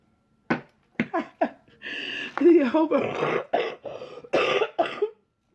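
A person coughs repeatedly in a harsh, sputtering fit, with throaty gasps between the bursts, close and loud.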